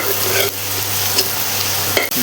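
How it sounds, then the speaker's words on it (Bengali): Jackfruit pieces fry in hot oil, a steady close sizzle with soft stirring scrapes and a couple of brief clinks from a utensil against the pan. "আমি এঁচড়গুলো একে একে সব ভেজে তুলে নিচ্ছি।"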